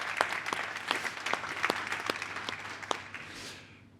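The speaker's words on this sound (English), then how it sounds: "let's give Ku a round of applause and David Hutton a round of applause as a welcome" An audience applauds to welcome panel speakers at an industry conference breakout session. Moderate clapping from a small crowd stays steady, then fades over about four seconds.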